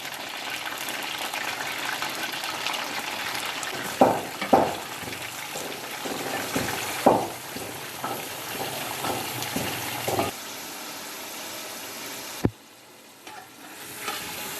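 Two kilograms of chicken fry in a karahi with a steady, close sizzle, broken by sharp clangs of a spatula against the metal pan and a brief watery gush midway.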